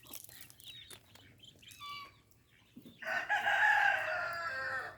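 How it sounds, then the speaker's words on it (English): Chickens cluck and a rooster crows loudly near a flock of Muscovy ducks, the crow swelling over the second half after softer clucks and chirps. "Hello, chickens."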